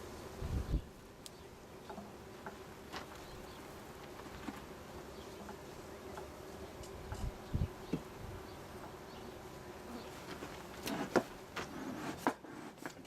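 Honeybees in a GrassHopper beehive during a first inspection at an apiary: a faint steady buzz of many bees, with occasional closer individual buzzes and light wooden knocks from frames being handled.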